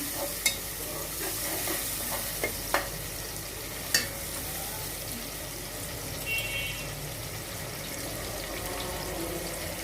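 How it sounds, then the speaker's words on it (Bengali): Steady sizzling of ginger and garlic frying in a pan, with occasional clicks and scrapes of stirring, no voices. "এই 1 মিনিটের মতন আদা রসুনটা একটু ভাজা করে নিব, যাতে কাঁচা ফ্লেভারটা চলে যায় আদা রসুনে"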